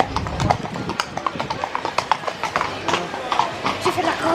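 Horses clip-clop past on a street in Ponte de Lima, Portugal, the hoof strikes ringing sharp and steady close by over a busy outdoor background with people talking.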